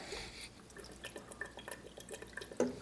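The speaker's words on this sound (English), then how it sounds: "we'll give it a couple shots of the Worcestershire, again, for the hamburger deal" A couple of quick shots of Worcestershire sauce splash into a pot of hamburger soup, heard as faint, scattered drips and small liquid plops, with one slightly louder splash near the end and no talking.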